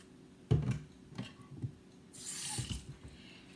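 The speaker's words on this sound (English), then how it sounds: "I'm just going to add some water to this." Water poured from a tap into a bowl of baking powder runs in a short soft splash, preceded by a few quiet knocks and clatters, fairly faint and with no talking.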